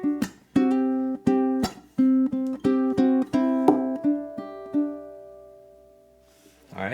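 Ukulele plays the third and fourth bars of a song out of C, a quick run of plucked notes in an even rhythm that slows into a few ringing final notes, close and clear, with a faint sound at the very end.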